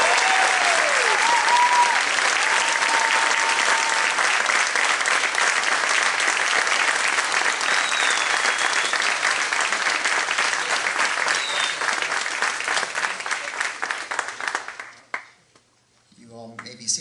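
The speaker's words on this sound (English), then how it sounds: "One more round of applause." An audience at a high school sports awards ceremony applauds continuously, dense and loud, for about fifteen seconds before the clapping dies away, with a few whistles heard over it.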